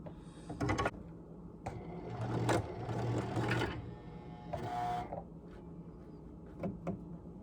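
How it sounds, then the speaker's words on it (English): A sewing machine stitches elastic in short, uneven bursts of rapid mechanical whirring, close and fairly quiet, with brief pauses between runs. "Am I gonna try sewing the elastic again?"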